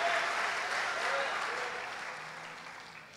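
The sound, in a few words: congregation applauding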